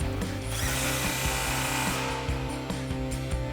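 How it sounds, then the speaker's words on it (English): A power tool tightening the H-pipe slip joint clamp on a Corvette exhaust, a loud close steady whir with rapid rhythmic impacts running throughout. "Now we'll tighten down the slip joint clamp for our H-pipe"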